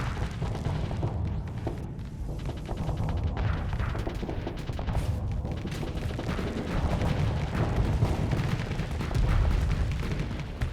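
Sustained barrage of space-battle weapon fire from the Starsector video game, dense booming shots and bursts layered continuously at a loud, steady level with no talk.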